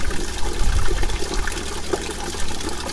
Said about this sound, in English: So I'll fill this bucket up.